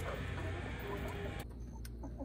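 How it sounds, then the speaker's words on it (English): Chickens cluck softly on a dairy farm, faint scattered calls over a steady background hiss, with no talk. "If you guessed a chicken, you're right."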